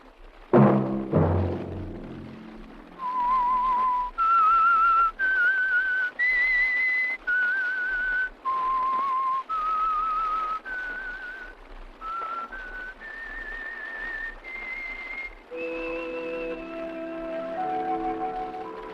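A whistled melody of clear sustained notes, stepping up and down in a slow tune, alone and fairly close after a brief opening noise.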